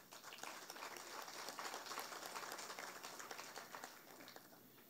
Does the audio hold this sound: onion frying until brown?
no